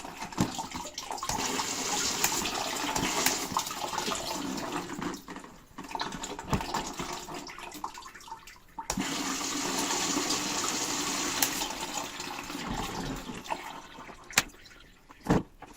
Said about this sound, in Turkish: Bakın direkt olarak diğer taraftan su vermeye başladı.